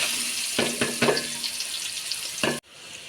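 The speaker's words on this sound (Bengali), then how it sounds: "একে একে গোটা গরম মশলা, শুকনো লঙ্কা, তেজপাতা ফোড়নে দিলাম। এবার পেঁয়াজটা দিয়ে দেবো।" Whole garam masala, dry red chillies, bay leaves and onion frying in hot oil for a mutton curry, a steady close sizzle broken by several bursts of crackling and stirring clatter before it cuts off sharply.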